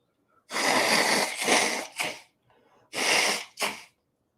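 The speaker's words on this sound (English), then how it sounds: "I'm going to blow my nose again now that I'm caught up." Several forceful, wet nose blows close to the mic, in short bursts with brief pauses between them.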